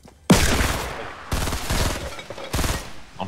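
Several loud, close bursts of pistol gunfire in Fortnite, three separate volleys with rapid shots and short pauses between them, and no talking.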